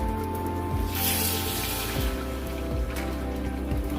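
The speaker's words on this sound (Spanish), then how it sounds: "Y vas a agregar la taza de agua." Water from a cup poured into a small cooking pot already holding toasted sesame seeds, a steady, continuous splashing pour over a low background hum, close and moderately loud.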